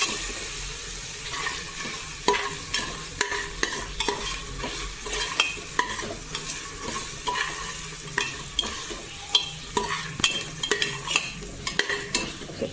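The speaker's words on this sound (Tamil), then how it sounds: "ஸோ புதினா ஆட் பண்ணிவிட்டு நல்லா வதக்கிக்குவாங்க." Mint leaves sautéing for veg biryani, stirred in a pan with a continuous sizzle and a run of crisp, regular spoon scrapes and clacks close by, with no voices.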